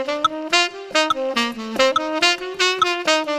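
Saxophone playing a flowing line of articulated, tongued notes at a steady moderate tempo, each attack clearly separated, with faint metronome clicks marking beats 2 and 4 beneath the close, loud horn.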